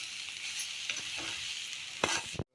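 Tamarind pulp cooks in oil for a mint pickle, making a continuous close sizzle with scraping stirs of a spoon, including a sharper clatter near the end before a brief cut to silence.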